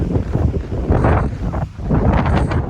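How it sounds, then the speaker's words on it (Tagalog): Gusty outdoor wind buffeting a handheld phone microphone, a loud, continuous rumbling roar that swells and dips, with no talk over it. "Windy Saturday."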